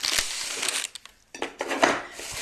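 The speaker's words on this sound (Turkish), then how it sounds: "Şimdi hemen kekimi ortadan ikiye kesiyorum" Close scratchy rasping of a knife sawing a sponge cake in half in short strokes, with a brief pause midway.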